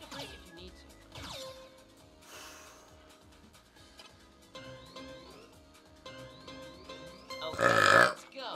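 A person lets out several loud, drawn-out burps, one gurgling and prolonged, another a sharp blast near the end, close up with small mouth and throat noises between.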